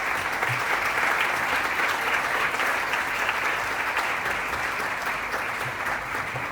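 An audience at a nature conservation awards ceremony applauds in a loud, sustained, even round of clapping with no voices over it.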